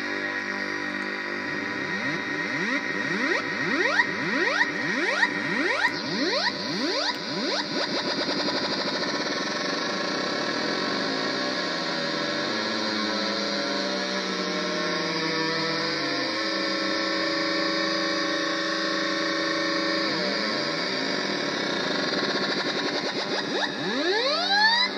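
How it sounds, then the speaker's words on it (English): Metallic, bell-like ring-modulation tones from a Delta Music Research 1100 modular synthesizer, with sweeping, clanging harmonics that glide up and down, sustained and fairly loud throughout, with no voices. "because the oscillators can go up to audio frequencies, you can get these fantastic harmonic modulating,"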